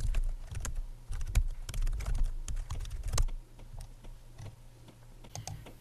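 Rapid keystrokes on a computer keyboard while a name is entered during an AWS setup, a steady run of close, light clicks with a low hum underneath, fading slightly toward the end, with no talking.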